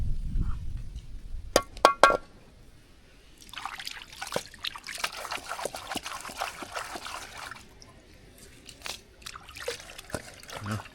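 Food rinsed with water in a home kitchen, a steady trickle and splash of running water with scattered clinks of dishes or glass, close by, after a few brief sharp knocks at the start.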